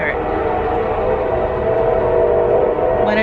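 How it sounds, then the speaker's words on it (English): A passing train rumbles loudly and steadily throughout, its dense low roar with a sustained tonal drone filling the scene nearby, with a brief higher squeal or horn-like tone near the end. "I don't know if you heard that over the train"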